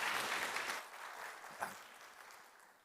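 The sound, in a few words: church congregation applause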